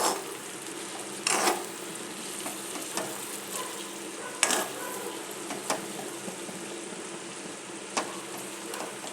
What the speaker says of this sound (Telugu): బాగా కాసేపు మగ్గాక మళ్ళా తిప్పుదాం వంకాయల్ని.